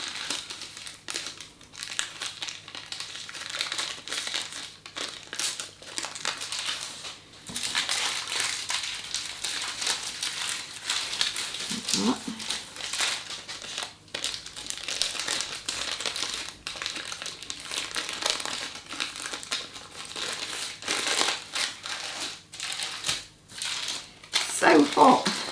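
Baking parchment is slowly peeled from a warm chocolate Swiss roll sponge, giving soft, close crinkling and crackling in irregular bursts over a long stretch, with quiet sounds of handling between.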